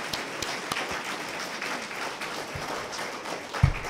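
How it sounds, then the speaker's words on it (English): An audience at an Indigenous feminisms panel applauding its guests, a steady, soft wash of many hands clapping at a distance, with a brief thump near the end. "let's give a round of applause for our guests"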